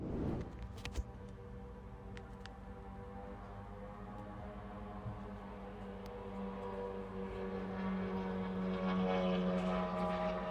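Attack drones flying over a Russian logistics hub, a steady droning propeller whine that slowly grows louder as the aircraft come closer, heard without voices.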